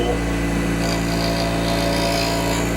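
An Easy Wood Tools 1/8 inch parting tool cuts into a spinning wooden barrel on a lathe, a loud, steady whirring and scraping drone with a constant low motor hum, with no talking.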